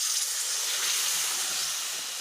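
Water is poured onto potatoes frying with masala for a Mithila-style aloo curry, setting off a loud, steady, close hissing sizzle that lasts the whole time without any talk.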